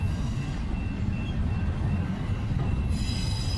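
A Union Pacific train rolls past on the rails in Stevenson, Alabama, a steady close rumble of wheels with a thin high squeal running over it, no voices.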